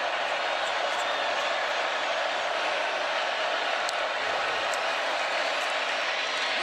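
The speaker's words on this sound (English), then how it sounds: "And the crowd fully engaged here at Saban Field." Stadium crowd at Saban Field during a college football game between South Carolina and Alabama, a dense, steady roar that stays loud throughout while a commentator talks over it.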